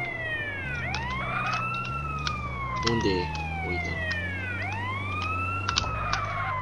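An ambulance siren in GTA San Andreas wails in repeated rising and falling sweeps, loud and continuous under engine rumble, while people talk briefly over it.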